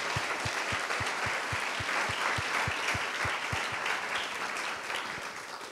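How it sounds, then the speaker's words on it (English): An audience claps steadily in a continuous wash of applause, fairly loud and even throughout with a slight fade at the end, and no voices stand out. "Could we have a bit of a cheer for Bianca as well"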